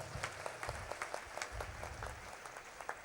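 A congregation at a church healing service applauds, producing a faint, distant wash of steady clapping for about three seconds.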